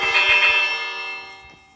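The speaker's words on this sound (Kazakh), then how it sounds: "О, қоңырау." A bell in the horror video game Kuntilanak rings out in a few quick metallic strikes, then fades into a long, ringing decay, with a faint knock near the end.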